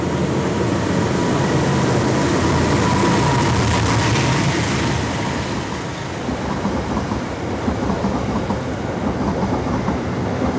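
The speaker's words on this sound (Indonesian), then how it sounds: "Ini di jalur 2 berjalan langsung kereta api Matarmaja." The Matarmaja train runs straight through on track 2 at Cirebon station, a loud sustained rumble of passing cars with rhythmic wheel clatter that eases slightly partway through.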